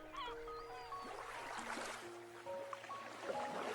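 Waves wash onto the shore in a soft, continuous hiss of surf, with a few bird cries faintly above it.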